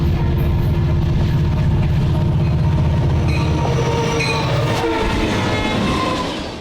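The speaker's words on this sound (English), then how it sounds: "Westbound 11E was following closely behind the 51T with an SD60 leader and a Top Hat -9." Norfolk Southern westbound freight train led by an SD60 locomotive rumbles past close by, a loud steady engine drone with rolling rail noise and clatter that stays heavy throughout, then the low throb drops away near the end as the cars keep passing.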